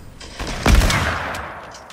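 A Fortnite game fires a quick burst of gunshots, a sharp loud blast trailing off into a short decaying echo, with no talk over it.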